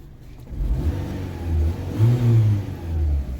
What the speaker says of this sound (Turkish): Bakın arkadaşlar arabanın şu an çalışıyor arabamız.